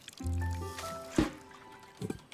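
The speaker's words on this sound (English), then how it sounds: "We water it because I feel like we should water it anyway." A plant being watered in the video game Botany Manor, with soft liquid pours and squishy drips set over a gentle sustained musical tone, plus a brief splash partway through.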